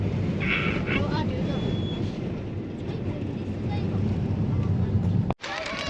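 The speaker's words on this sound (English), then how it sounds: "It's windy and rainy and not particularly warm." Strong wind buffets the microphone on top of the Great Orme headland in North Wales in cold, rainy weather, a steady loud rumbling gust throughout that cuts out abruptly near the end.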